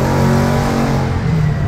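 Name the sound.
1000cc CBR big motorcycle engine revving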